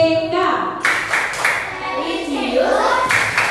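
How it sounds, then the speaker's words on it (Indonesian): A standing classroom group performs the PPK clapping routine, sharp unison claps landing in a rhythmic pattern between stretches of chanted voices, close and lively. "Kita tepuk PPK ya."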